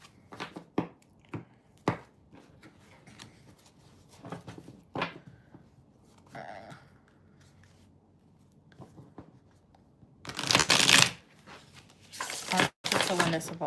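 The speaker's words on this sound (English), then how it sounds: "And we just shuffle these." Tarot cards are shuffled in two quick, papery bursts near the end of a tarot reading, after scattered soft handling noises and light talking.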